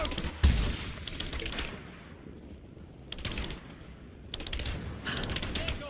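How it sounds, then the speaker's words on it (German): Bursts of automatic gunfire in Rise of the Tomb Raider, several loud rattling volleys separated by quieter pauses, with a heavy thump near the start and a voice faintly underneath. "Stehe unter Beschuss!"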